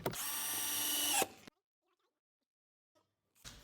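A power drill drives a screw into wood for a skate ledge kit, one loud, steady, rising whir lasting just over a second, then silence, and a brief burst as the drill starts again at the end.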